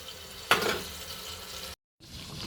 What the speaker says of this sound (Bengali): লাল করে পেঁয়াজগুলো ভেজে নেব।